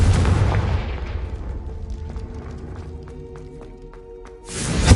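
Confringo fire spell blast in Hogwarts Legacy: a loud booming explosive burst that rumbles and fades over a few seconds, leaving faint crackles and ringing tones, then another heavy whoosh flares at the end.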